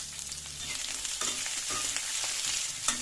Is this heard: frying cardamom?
yes